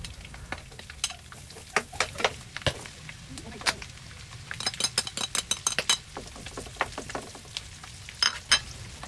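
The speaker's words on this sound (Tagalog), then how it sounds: "isunod na nating igisa ang bawang at sibuyas" Garlic and onion sauté in hot oil with pork for Bicol Express, a steady sizzle broken by repeated sharp scrapes and clinks of a utensil stirring against the pan, close and fairly loud, with no talk.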